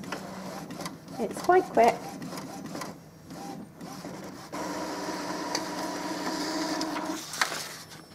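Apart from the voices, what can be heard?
Epson Expression Home XP-3100 printer printing nozzle check pattern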